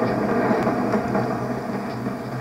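A train in the video game Battlefield 4 rumbles steadily, with a continuous heavy low-pitched roll of wheels and engine and faint clanks over it, loud and close.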